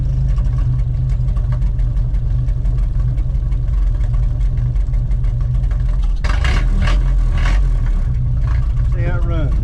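A 1931 Ford Model A with a B-type four-cylinder engine runs steadily on its first drive on new tires, a loud continuous low rumble throughout, with voices speaking over it.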